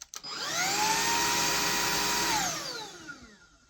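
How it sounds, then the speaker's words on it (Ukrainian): A Dreame U20 cordless vacuum cleaner switches on with a click, rises to a steady high whine that holds for about two seconds, then spins down in a falling tone, with no talk over it. "Хочу зробити невеликий огляд на пилосос бездротовий Dreamy U20"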